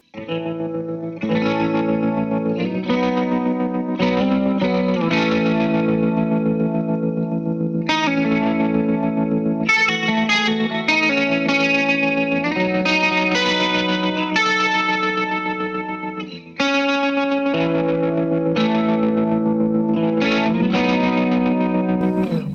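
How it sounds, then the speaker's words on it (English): Heavily processed guitar through an effects pedal in slicer mode, a choppy, rhythmically gated effect, chords pulsing in rapid chopped bursts with chorus-like shimmer, loud and continuous. "So I've got the slicer mode on here, which I quite like, which is for a very specific song."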